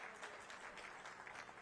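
Audience applause at a municipal swearing-in ceremony for newly elected council members: a steady wash of many hands clapping, fairly faint and distant, without talk over it.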